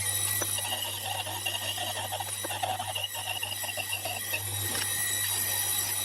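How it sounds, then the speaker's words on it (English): A slitting saw cuts through a metal part on a milling machine, a steady mechanical whine with rhythmic clicking chatter over a constant low motor hum. "now we're going to slit it to up to the hole"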